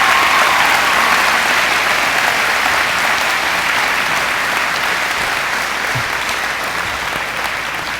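Sustained audience applause fills a high school graduation ceremony for the class of 2023, a dense, steady wash of clapping from a large crowd that holds at a constant level throughout and fades only slightly toward the end.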